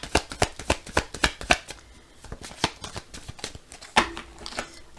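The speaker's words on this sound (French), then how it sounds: "On va faire aussi une petite coupe avec la triade pour voir un petit peu." A deck of oracle cards is shuffled by hand in quick, close riffling flicks, then briefly settles before a final cut and a few more card snaps.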